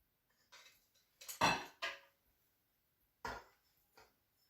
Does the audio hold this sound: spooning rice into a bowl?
yes